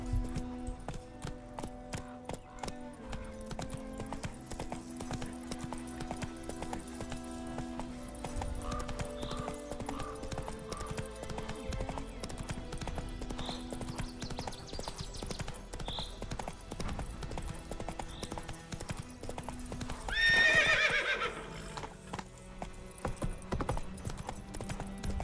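Roach, the horse in The Witcher 3, gallops with steady, rapid clip-clop hoofbeats over game music, then lets out a brief, loud neigh near the end before the hooves carry on.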